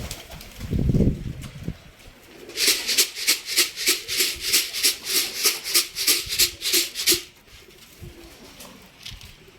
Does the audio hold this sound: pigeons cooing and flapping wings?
yes